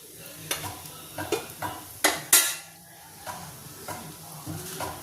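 Puran poli frying in oil on a pan, with sizzling and scattered clinks and scrapes of a spatula against the pan, several sharp knocks midway, close and fairly quiet.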